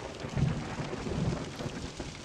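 Thunder from lightning strikes in a VHS-style horror video game, a low rolling rumble with two swelling peaks over steady rain-like noise, moderately loud and without speech.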